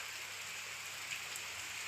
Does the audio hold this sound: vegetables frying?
no